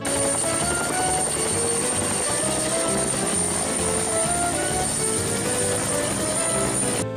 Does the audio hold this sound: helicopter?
yes